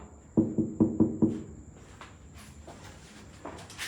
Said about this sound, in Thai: เคาะมาจากลิฟต์เหรอ